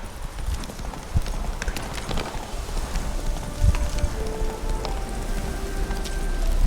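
Roach, the horse in The Witcher 3, with hooves clip-clopping in a quick, irregular gallop rhythm over a steady rain-like background hiss.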